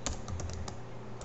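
Quick, light keystrokes tap on a computer keyboard in a short, uneven burst, close and quiet, with no voices.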